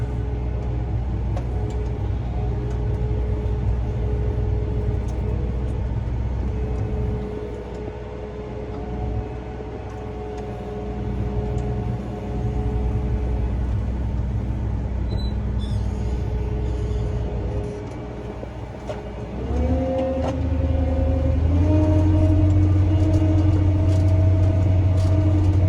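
Gleaner R72 combine harvester working a wheat field, its engine a loud, steady low rumble and drone throughout, with tones shifting and rising near the end as it works harder while turning.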